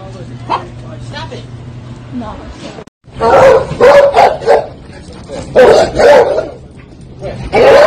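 A dog in a park barks in a rapid cluster of loud, close barks after a brief quieter stretch, with people talking nearby.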